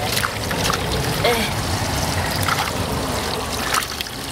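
Water trickles and sloshes steadily as freshly picked garden vegetables are rinsed by hand in a kitchen, a continuous close, moderately loud splashing with a few brief higher splashes.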